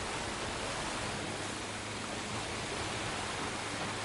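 Steady rain falls in Resident Evil 4 Remake, a dense, even hiss that holds unchanged and fills the whole scene with no other sounds standing out.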